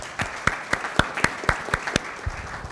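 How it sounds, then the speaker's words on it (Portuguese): Sparse, slow clapping from a small audience at a literature and justice talk, about eight distinct claps in a steady rhythm, fairly close and moderate in loudness, with no voices over it. "aplausos para ela, né? Para elas"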